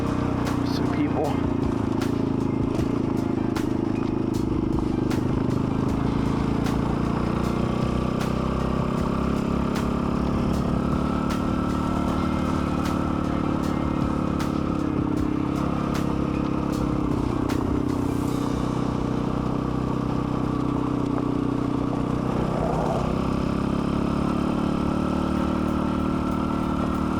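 A dirt bike engine drones continuously while riding over gravel through woods, with loose stones clattering beneath; a rider talks over the steady engine noise throughout.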